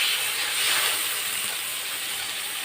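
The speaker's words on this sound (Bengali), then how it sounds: "এবার জল দিয়ে দেব।" Water goes into a hot pan of frying potatoes for a Bengali curry, setting off a loud, bright hiss that steadily softens over a couple of seconds.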